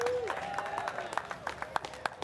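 Beachside crowd cheering and clapping for the surf champions at the US Open of Surfing in Huntington Beach, with scattered sharp claps and whoops over a steady roar, and an amplified announcer's voice at the start.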